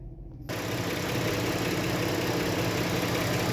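Ford Edge engine idling after a water pump install, starting abruptly and then holding a steady, close mechanical idle with a dense even hum and no talk over it.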